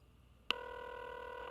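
Telephone keypad tones from a retro computer role-playing game, Might & Magic: World of Xeen, as a number is dialed, followed by a steady sustained tone ringing on alone.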